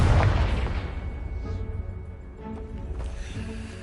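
A Confringo blasting spell goes off in the video game Hogwarts Legacy: one heavy, close boom at the start that fades into a long, rumbling decay with scattered crackles and faint voices.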